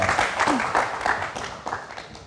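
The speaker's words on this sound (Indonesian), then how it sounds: "Kita kasih tepuk tangan dulu dong." Brief applause from an event audience as two musical guests are welcomed onstage, a short patter of clapping with a voice mixed in over it.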